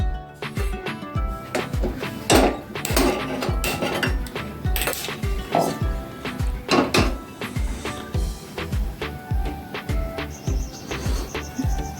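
A kadhai set on the stove among kitchen clatter: repeated sharp metallic clinks and knocks of pots, utensils and a drawer, loud and close, in an irregular rhythm with no one talking.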